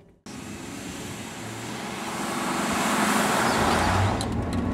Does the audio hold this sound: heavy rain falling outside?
no